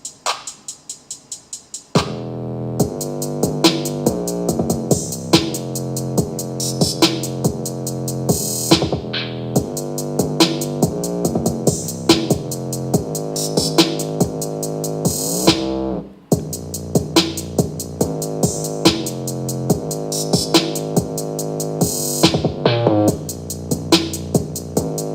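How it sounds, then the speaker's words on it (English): Music moves through a brief lull into much heavier drums with a very heavy, booming 808 bass, punchy hits in a steady loud groove that drops out once near the middle and returns. "lull and then into these much heavier drums with a very heavy 808"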